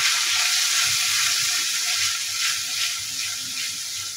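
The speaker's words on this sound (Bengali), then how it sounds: "তো এখন আমি মশলাটাকে ভালোভাবে কষিয়ে নেব।" Red chili, cumin, coriander powder and salt sizzle in hot oil in a pan for mung dal, a close, steady crackling hiss with no speech.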